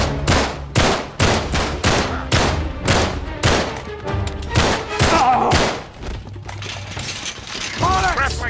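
Rapid bursts of gunfire in Uncharted 3, loud close shots in a quick regular rhythm, then a short lull and more firing mixed with clanking action noise and shouted voices.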